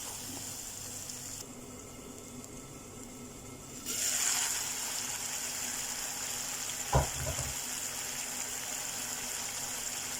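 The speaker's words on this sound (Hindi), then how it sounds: "अब इसे हमें फ्राई करना है अच्छे से कि मसाले का स्मेल ख़त्म हो जाए" Cabbage kofta curry spices with black pepper and salt frying in a pan, a steady hiss that grows a little louder partway through, broken by one brief knock, no voices.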